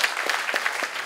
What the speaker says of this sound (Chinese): 那我们热烈掌声欢迎邓老师。